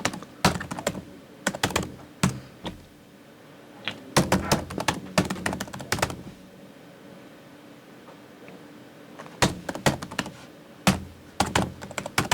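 Bursts of keyboard typing, rapid clusters of key clicks separated by pauses, close and fairly loud with no voices.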